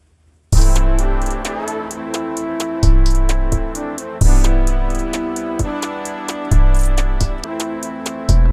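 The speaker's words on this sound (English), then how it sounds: "I'm going to put the second 808 on the second beat of the other measure" A trap beat built in Soundtrap pounds with deep 808 bass notes under crisp hi-hats, snares and a melodic layer. The loud bass hits come in a repeating pattern with no voices over it.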